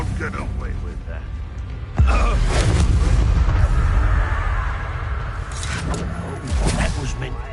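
Spell-casting combat in Hogwarts Legacy, with deep magical booms and whooshing bursts rolling under shouted voices, a heavy impact swelling partway through and smaller flares trailing off near the end.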